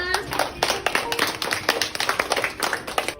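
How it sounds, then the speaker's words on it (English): A small audience claps for a three-year-old girl who has just read an English book aloud, bright individual claps that are close and fairly loud, coming in an uneven patter rather than a dense roar. "නංගියට clap එකක් දෙන්න හැමෝම"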